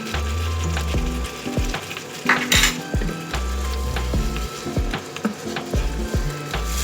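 Masala with tomato puree and salt sizzles loudly in a pan over high flame, a dense continuous frying hiss broken by repeated scraping knocks of a spoon stirring.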